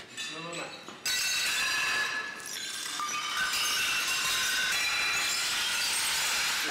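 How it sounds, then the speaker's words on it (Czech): Non-safety glass, neither laminated nor tempered, breaking into sharp shards in a crash test: a sudden loud burst of shattering followed by a long dense spray of tinkling, clinking fragments. "sklo se rozbilo na ostrý střepy, které můžou lehce někoho zranit"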